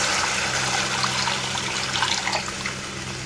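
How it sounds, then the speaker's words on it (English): Steady stream of about one glass of water pouring into a pot of Maggi noodles, a continuous splashing rush that eases slightly toward the end, with no talking. "Now we need to add water, kinda 1 glass of water."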